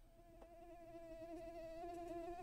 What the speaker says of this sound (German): Oh nein, die Fliege.